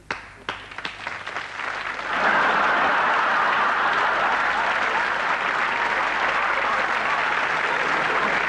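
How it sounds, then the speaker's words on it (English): A studio audience breaks into loud, sustained applause after a few scattered early claps, the clapping swelling at about two seconds and holding steady at full volume to the end. "And a big round of applause for Hank Shepherd and Trigger."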